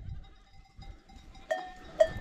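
Goats in a highland herd bleat at a distance, with two louder calls standing out near the end over a quiet outdoor background.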